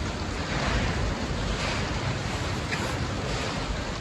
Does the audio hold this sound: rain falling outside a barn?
yes